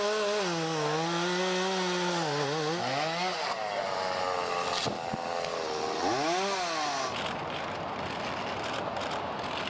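A chainsaw cuts through a wooden cross, its engine whining and pitching up and down as the blade bites, then dropping into a rougher, noisier grind toward the end.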